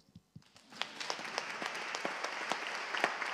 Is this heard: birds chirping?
no